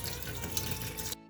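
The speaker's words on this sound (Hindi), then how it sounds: "तुलसी को अच्छे से वॉश करना है आपको" Tap water runs steadily over tulsi leaves being washed in a sink, a close, continuous splashing stream that cuts off abruptly at the end.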